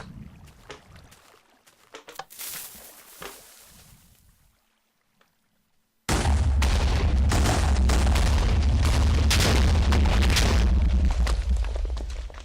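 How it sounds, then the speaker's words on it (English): TNT chain-reaction explosions in a video game: scattered booms and pops build briefly, fall to near silence, then a sustained loud roar of overlapping blasts and crackling bursts rolls on for several seconds. "He chose the chain reaction, which is similar to all the explosions you just saw."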